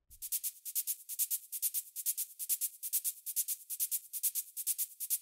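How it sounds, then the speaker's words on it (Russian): A shaker stands in for hi-hats in an uplifting trance track, playing a fast, even pattern of bright, crisp shuffling hits that repeat about four times a second, solo and moderately loud, with velocity variation. "Шейкер я использую в качестве заменителя для хай-хетов."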